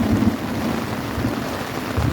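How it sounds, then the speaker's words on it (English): Thunder rolling during a heavy rainstorm at a campsite, a low rumble beneath steady hissing rain, moderately loud and continuous for a couple of seconds. "Can you hear the thunder?"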